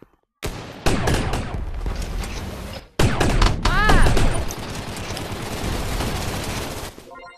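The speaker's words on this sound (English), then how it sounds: "Let me test out the sniper rifle on" Sniper rifle fire in Gun Raiders, a virtual reality shooter, opens with loud, close blasts and then a dense, sustained barrage of shots. A voice briefly cries out in the middle.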